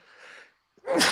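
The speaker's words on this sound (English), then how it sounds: "Excuse me. Oh, bless you" A single sneeze from a person on a sports talk stream, a short breathy intake followed by one sharp, loud burst, close to the microphone.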